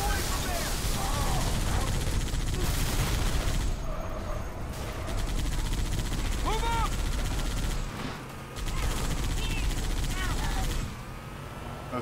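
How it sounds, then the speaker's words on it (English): Steady, dense gunfire and bursts of shooting from the Halo 3 video game fill the stretch, with brief lulls and booming impacts under the continuous rattle. "Dude, you are shooting our friends."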